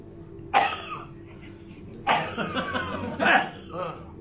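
Three harsh coughs burst out at intervals, close and loud, the middle one trailing into throat-clearing.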